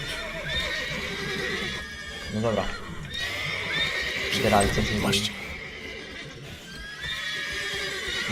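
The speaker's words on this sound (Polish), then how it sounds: "Muszę uspokoić konia za pomocą strażników" Horse neighs and whinnies in The Witcher 3: Wild Hunt, with clip-clop of hooves, rising in short bursts over steady game ambience while someone talks throughout.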